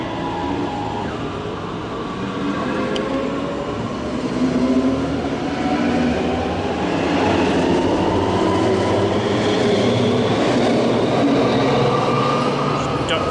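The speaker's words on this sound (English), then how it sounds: "My view of which is about to be blocked by this departing S-Bahn train." Departing S-Bahn train pulling out near München Hauptbahnhof, a steady, loud rolling rumble with rising motor whine as it gathers speed, close to the listener throughout.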